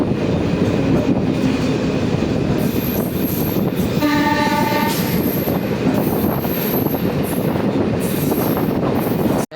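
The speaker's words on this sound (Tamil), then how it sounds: "சேலம் மார்க்கெட்லேருந்து நம்ம டிபார்ட் ஆகிட்டு இருக்கோம்." Vriddhachalam-Salem DEMU express train departing Salem Market station, heard from on board as a loud continuous engine drone and wheel rumble, with a short horn blast partway through.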